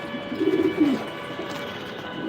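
Pigeons at a racing loft giving a short, soft cooing phrase close by, then quiet indoor background hum.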